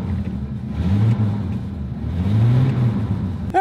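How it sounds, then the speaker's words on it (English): An old, cheap high-mileage truck engine revs at close range, climbing twice in a steady drone before easing off, with no talking. "And really, just listen to that engine."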